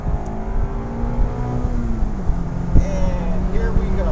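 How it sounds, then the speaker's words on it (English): Mazda MX-5 Miata ND, 30th Anniversary edition, with its engine revving steadily under load while driving, a close continuous drone with pitch sweeps as it climbs through the gears, and talk over it. "Motor's revving happily."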